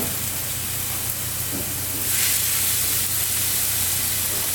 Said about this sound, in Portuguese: a gente vai refogar um pouquinho de azeite, a nossa cebola picadinha